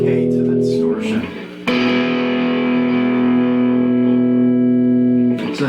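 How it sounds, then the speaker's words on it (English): Electric guitar through a Runoff Groove Britannia AC30 emulator pedal with the gain turned all the way up: a sustained distorted chord rings out, a second struck chord decays slowly and smoothly, loud and close. "I'm gonna just bring the gain all the way up, and it gets nice and creamy."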